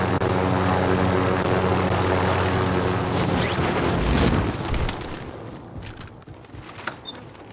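A propeller aircraft in the Warzone battle royale game comes in to land, its engine drone loud and steady at first, then thinning out as scattered booms and crackles of distant gunfire break through.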